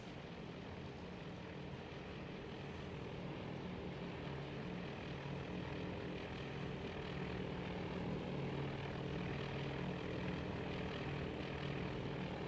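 Bomber aircraft engines drone in the Task Force Admiral naval combat game, a steady, low propeller hum that holds faintly and evenly throughout with no voices.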